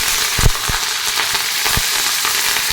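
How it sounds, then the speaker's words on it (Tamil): Mustard seeds, green chillies and curry leaves fry in hot oil, a dense close sizzle with several sharp popping crackles from the seeds, no voices. "கடுகு பொரிய ஆரம்பிச்சிருச்சுங்க இப்போ பச்சை மிளகா கருவேப்பிலை போட்டுக்கலாம்"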